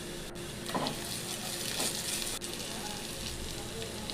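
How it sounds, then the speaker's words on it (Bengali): Onion frying in oil with cinnamon, cloves, cardamom and cumin as ginger-garlic paste goes in, a soft continuous sizzle with a couple of brief scraping clatters, quiet overall. "পেঁয়াজটা ভেজে নিচ্ছি"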